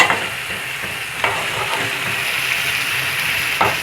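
Beef green masala fries in a pan with a steady, loud sizzle, broken by a few sharper spatters and stirring scrapes, with no voices.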